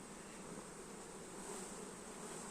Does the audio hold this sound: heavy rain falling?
no